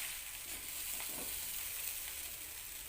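Fried noodles with a sprinkling of fried shallots being stirred in a hot pan, giving a steady, even sizzle with faint scraping, close and continuous with no voices.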